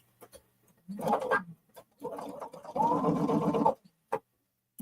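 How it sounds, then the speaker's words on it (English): A sewing machine quilting a pinned piece runs in short close bursts, one brief run, then two longer stretches of rapid stitching separated by quiet pauses and small clicks. "I moved the pins so that they're not in my way as I'm quilting now."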